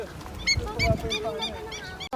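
Geese or ducks at a park give a run of about six nasal honks in a steady rhythm, close and fairly loud, over light outdoor background noise.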